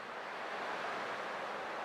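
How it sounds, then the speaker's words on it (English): Ocean waves in Honkai Star Rail wash in as a soft, steady surf hiss, a continuous gentle roar with no distinct breaks and no voices. "I can still clearly hear the sound of the waves."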